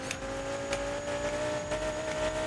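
A tuned BMW E60 M5 engine drones steadily with a high, sustained whine on a race track, heard from inside or close by, without any speech.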